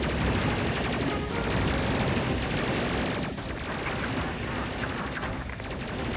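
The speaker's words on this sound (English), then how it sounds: "These triple plasma turrets are cool" Triple plasma turrets fire nonstop in the Space Crew video game, a loud, dense barrage of rapid gunfire-like bursts sustained across the whole stretch.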